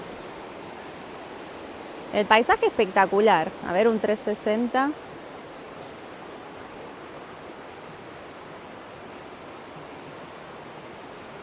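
A river beside the footpath to the San Romedio sanctuary in Trentino, Italy, flows with a soft, constant rushing hiss throughout, while a person speaks briefly over it near the start.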